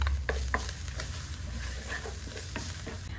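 Chicken pieces fry with a little chopped onion in a pan, a steady close sizzle crackling throughout with occasional stirring scrapes and pops, and no voices.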